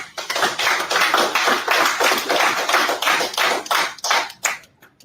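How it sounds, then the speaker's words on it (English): An audience at a formal gathering on Haiti's development applauds, many hands clapping in a dense, sustained roll that stays loud for several seconds and then thins out to scattered final claps. "I ask us to give him an applause"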